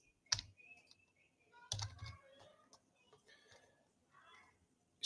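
Keys tapped on a computer keyboard, including a Shift and Enter press: two sharp, louder key strikes followed by scattered lighter clicks, close and quiet in a still room, with no talk.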